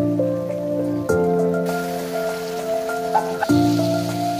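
Boiled taro dropped into a sizzling pan of fried spice paste for Bengali kochu shak with shrimp; a steady close frying hiss rises with a soft thump as the pieces go in, over a continuous background tone.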